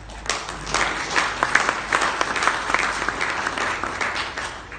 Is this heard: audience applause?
yes